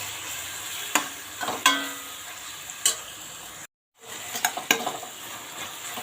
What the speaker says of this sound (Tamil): இதுவும் சேர்த்து நல்லா வதங்கட்டும்